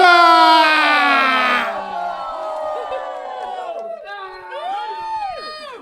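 A crowd at a hip-hop show greets a performer with a loud whoop and cheering that fades into scattered shouts and calls over a few seconds.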